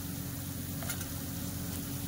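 Chillies and cashews frying gently in oil for a chicken white korma, a steady soft sizzle and crackle with no break, close by but quiet, and no one talking.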